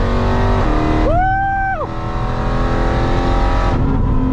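Supercharged Whipple Mustang launching hard from a 1500 RPM start at a drag race, a loud steady engine roar with a rising whine as it climbs through first gear, close and alone.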